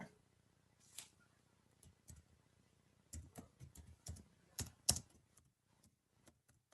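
Someone types a name on a computer keyboard in a quiet room, sparse soft key taps arriving in short irregular bursts with pauses between.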